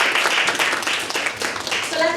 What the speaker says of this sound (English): I want you guys to give yourselves a round of applause for just being able to do that.